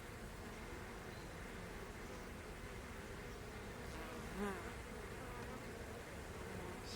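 Soft, steady buzzing of many honeybees at close range on open hive frames, fairly quiet, with no one speaking.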